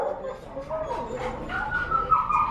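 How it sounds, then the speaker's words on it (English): Several confiscated dogs at a shelter yip, bark and whimper close by. People talk over and around the sounds. "These dogs have been confiscated."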